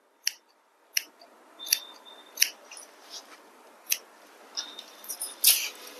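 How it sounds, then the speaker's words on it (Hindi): Sharp metallic snips of hairdressing scissors cutting fine, thin hair, a string of crisp close clicks spaced irregularly about every half second to a second against a quiet room. "उस कटी हुई लाइन को फिर नीचे की साइड आप काट दो"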